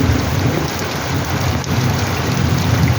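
Heavy, steady rain pours down continuously at night, a dense hiss and patter filling the whole clip with no voices.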